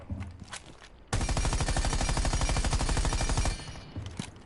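A burst of automatic gunfire during recoil practice in Rainbow Six Siege, a rapid loud stream of shots lasting about two and a half seconds, framed by quieter footsteps and handling sounds before and after.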